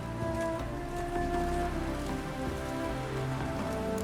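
Steady rain pours down in The Witcher 3: Wild Hunt, a dense, continuous hiss of drops on surfaces with a low ambient bed and a faint musical drone underneath, even and unbroken throughout.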